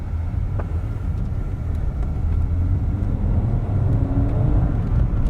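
A restored Audi Coupe GT on its first drive gives a steady low engine thrum with road rumble, continuous and even from inside the car.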